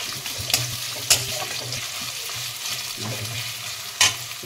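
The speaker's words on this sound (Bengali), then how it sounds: "রসুনের তেলে মানে পেঁয়াজটা পড়েছে" Onion fries in garlic-flavoured oil with a soft, continuous sizzle, broken by a few sharp clinks and scrapes of a stirring spoon against the pan.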